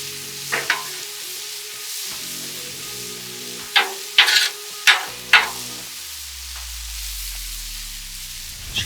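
Fajita vegetables in an olive-oil marinade go onto a hot grill surface, with a low steady sizzle punctuated by several sharp scraping and clanking hits from a spatula.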